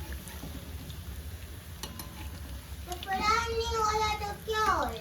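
Food fries in a home kitchen pan with a close, continuous sizzle and stirring, while children's voices talk over it in the second half.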